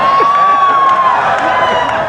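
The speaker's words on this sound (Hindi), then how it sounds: "तेरा पूरा सदन एक बार जोरदार तालियां बजा दे गोविंद राठी के सम्मान में" Audience at a kavi sammelan poetry gathering during the Datia Phag festival, a dense sustained wash of crowd applause and cheering lasting about two seconds, loud and steady with a few voices in it.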